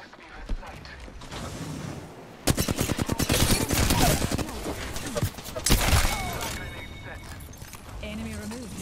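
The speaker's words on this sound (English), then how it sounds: "They're shooting at me." Rapid automatic gunfire in the shooter game Apex Legends, a long dense burst of fast shots from a nearby weapon followed by a second burst, with a character voice speaking during the fight.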